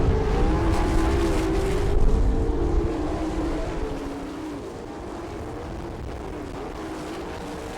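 Sprint race cars on the final lap at Attica, Ohio, their engines roaring close and loud, then fading slightly as the pack moves away, a continuous droning howl.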